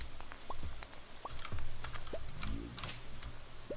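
Rain falling in the game Stardew Valley: a constant hiss of rainfall with scattered droplet patters and small plinks, steady and fairly loud throughout.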